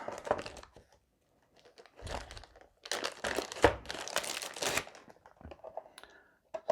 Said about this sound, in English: let's open up these awesome looking dice and give them a roll